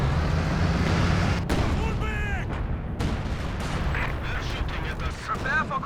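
Stuka zu Fuss rocket artillery barrage from the walking Stuka in the Company of Heroes 2 game, a loud sustained burst of booming rocket impacts with whistling streaks, continuous and dense throughout.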